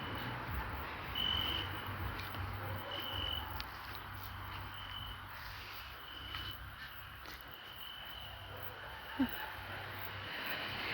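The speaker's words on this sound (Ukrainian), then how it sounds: "цвіркуни цвіркочуть і перекликаються" Steady chirping of crickets fills a quiet outdoor night, faint and continuous, with a soft background hum and one brief click near the end.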